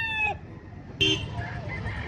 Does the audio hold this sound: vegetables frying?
no